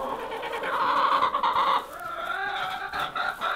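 Backyard chickens clucking steadily in a coop, a dense overlapping chorus of close, fairly loud bird calls with no talking.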